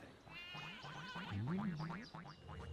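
Sheep bleat repeatedly in the video game Skylanders: Spyro's Adventure, a string of wavering, nasal calls that rise and fall, fairly close and clear over a steady game background.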